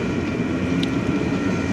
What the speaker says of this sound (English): UP train was first,